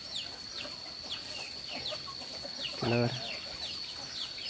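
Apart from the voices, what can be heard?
chickens clucking while being fed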